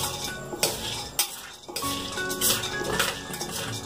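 Mava gutka ingredients are mixed together in a bowl with a spoon, giving close, busy scraping and clinking of metal against the dish that continues throughout with a short pause partway.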